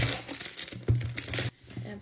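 A perfume box is being unwrapped and opened, giving dry crinkling and tearing rustles in quick uneven bursts, close to the microphone, with a brief pause near the end.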